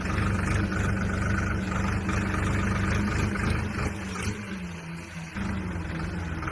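A dozer engine runs steadily while levelling dumped soil, a loud close diesel rumble that dips briefly then picks up again.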